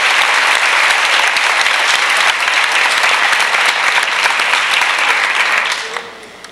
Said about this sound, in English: So let's give her a round of applause, Brooke Rodriguez.